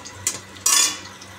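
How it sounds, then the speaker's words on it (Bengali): Spice masala for a fish curry is stirred in a pan, with a sharp scrape followed by a brief burst of sizzling, close and fairly loud. "দেখো মশলাটা কষাচ্ছি এখন"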